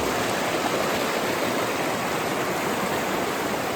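A creek or river by an Idaho backcountry camp rushes steadily in a dense, unbroken wash of water noise, close and loud, with no voices.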